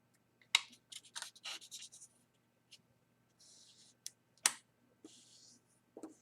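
Paper being folded and creased for an origami crane, with soft scattered rustles and sharp crackling creases close up in a quiet room, pausing between folds.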